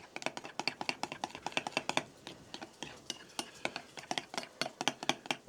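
A spoon or utensil clatters rhythmically against a bowl while bang bang sauce is stirred together with island stir fry, a quick steady series of light clicks and scrapes.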